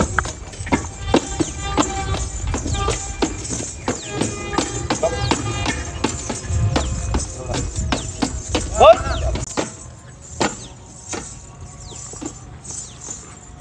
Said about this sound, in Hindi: आप देख सकते हो थाली में घोड़ी कितने ऊपर ऊपर पांव उठा रही है